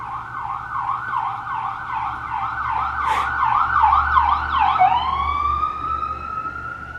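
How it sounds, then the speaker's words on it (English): A loud wailing ambulance siren cycles up and down repeatedly, then shifts to a steady falling tone as the vehicle passes close by. "here comes the ambulance back the other way"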